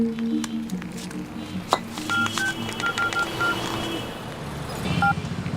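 Several short electronic keypad tones beep one after another over low road and engine noise, like a phone number being punched in.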